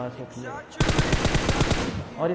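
Rapid bursts of M4 rifle fire ring out in a solo mobile battle royale match, a loud close string of about ten evenly spaced shots following a quiet moment.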